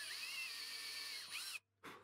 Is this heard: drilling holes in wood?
yes